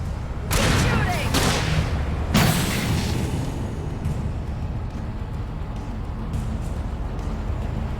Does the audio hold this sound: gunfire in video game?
yes